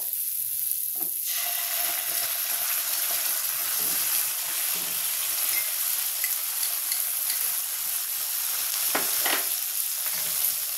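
An egg chilli mixture frying in a pan just as tomato sauce goes in, with a continuous bright sizzle and a few soft stirring taps, close up and without any talking.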